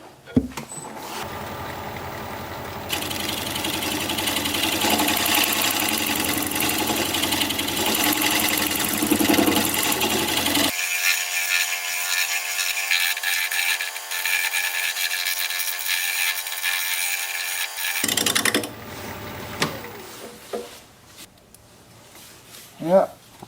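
A wood turning lathe spinning while a shear scraper works the blank, a continuous hum and scraping texture that shifts in tone partway through and then stops, followed by quieter handling sounds.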